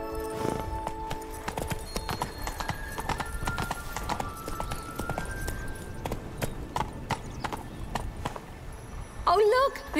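Horse hooves clip-clop at a steady gallop in The Witcher 3, a continuous rhythmic pounding with a brief whinny near the end, while voices talk over it.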